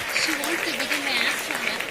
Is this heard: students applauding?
yes